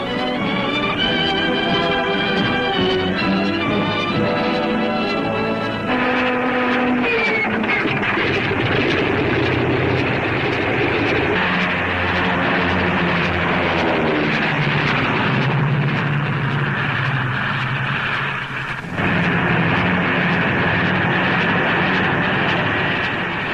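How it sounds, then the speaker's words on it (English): P-40 fighter planes take off from an improvised metal runway in wartime film footage, a loud continuous engine drone with shifting propeller tones that swell and change pitch, rumbling with no talk. "Bouncing down the improvised metal runway, they head straight for the enemy target"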